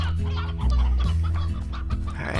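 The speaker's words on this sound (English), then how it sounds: "Is this an elder hen?" Elder hen clucking in the Slime Rancher video game, repeated low throaty clucks over a steady game background hum, fairly close, with no talking.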